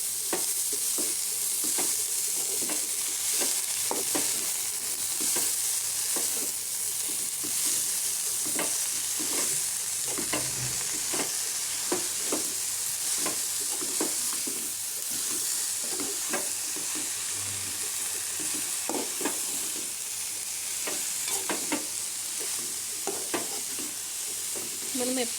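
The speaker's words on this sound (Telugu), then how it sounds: "మెంతి ఆకు వేసేసి కలిపేసుకోవాలి." Chopped fenugreek leaves are stirred into a frying lentil mixture in a pan: a continuous close sizzle with repeated scraping and stirring strokes throughout, and no voices.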